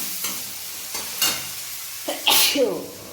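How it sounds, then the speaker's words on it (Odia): Onion, tomato and dry chili fry in a pan on a gas stove, with a few close spatula knocks and stirring scrapes followed by a brief burst of bright, hissing sizzle. "ଯାଉଛି ଏବେ ଗ୍ୟାସ୍ ଲଗେଇବି, ଭାଜିବି"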